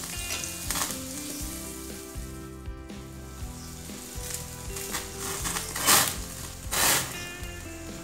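Paneer kebabs on skewers sizzle steadily as a mix of oil and ghee is drizzled over them, a continuous crackling fry with a few brief louder bursts, close and alone.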